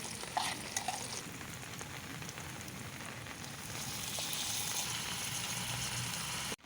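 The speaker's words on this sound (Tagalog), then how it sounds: "So ginigisa ko na po ngayon yung luya." Ginger sautéing in a pan for tinola at a lakeside campsite, a steady hissing sizzle with faint stirring scrapes, close and soft, growing slightly louder before stopping abruptly.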